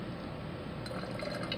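Rinse water with silver solution poured into a glass beaker makes a soft, steady liquid trickle and splash that brightens slightly partway through as the beaker fills.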